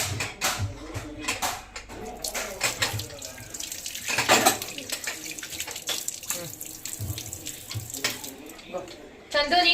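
Tap water running into a sink during handwashing, a splashing, gurgling stream with clattering and irregular bursts, heard close while people talk and call out over it.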